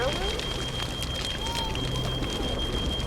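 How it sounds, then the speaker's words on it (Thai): Fire burning with steady crackling and splintering pops, fairly close and continuous, under a faint high whine. "ไฟไหม้"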